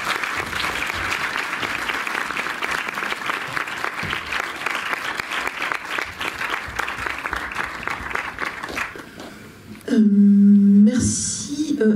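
An audience in the Méliès cinema hall in Montreuil applauding a guest, a dense, even wash of many hands clapping that lasts for about nine seconds before fading, followed by a brief loud hum and clatter.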